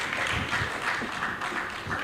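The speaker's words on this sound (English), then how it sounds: "Round of applause, quickly come," A round of applause at a ceremony decorating newly promoted service officers, a steady, moderately loud crowd clapping throughout two seconds with faint voices underneath.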